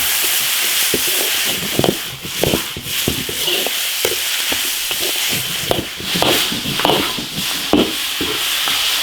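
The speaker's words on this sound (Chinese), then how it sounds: "牛杂爆炒" Beef tripe being stir-fried in an iron wok with chili oil, Sichuan peppercorns, chilies and spices. A spatula scrapes and clatters in quick, irregular strokes over a continuous sizzling hiss, with no voices.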